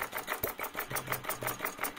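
Small Retrol model engine, a total-loss oiling design, running steadily with a rapid buzzing beat, fairly close and moderately loud, with no voices.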